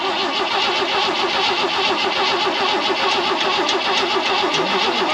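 An old Jeep CJ5 sitting unused for 16 years, fed fuel through its carburetor, cranks and catches, its engine running with a steady mid-pitched rumble and rapid ticking rhythm throughout, loud and close.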